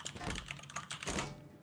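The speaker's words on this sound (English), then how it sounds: "They're typing frantically." Frantic typing on a keyboard in a Prop Hunt game: a short, dense flurry of fast clicks and key taps, fairly close and busy, with no voices.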